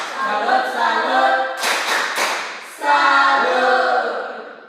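Fifth-grade pupils in an Indonesian elementary classroom do the rhythmic "tepuk salut" routine: loud, close chanting voices with a brief cluster of sharp claps in the middle.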